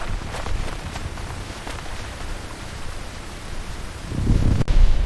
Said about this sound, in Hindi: अचानक मौसम बदल गया और तेज बारिश शुरू हो गई।